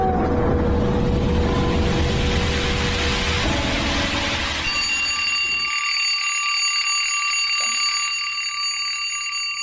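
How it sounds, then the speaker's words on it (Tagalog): An alarm clock rings loudly and persistently, first under a dense wash of noise and then as clear, sustained bell-like tones that carry on alone. "Kanina pa tumutunog yung alarm clock mo."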